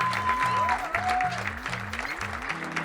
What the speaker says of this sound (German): Große Liebe und großen Applaus für alle, die mitgemacht haben.